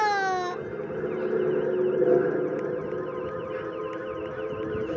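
A police siren in the Roblox video game wails in a steady, sustained tone across the whole stretch, with a rising sweep at the start.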